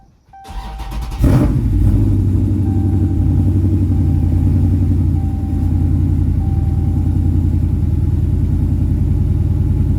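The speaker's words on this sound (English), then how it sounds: "I'm gonna start the car to see if we get valuable feedback before I go any further" A Hemi car engine cranks briefly, catches with a loud burst and settles into a steady, deep rumbling idle that continues without pause, close to the microphone.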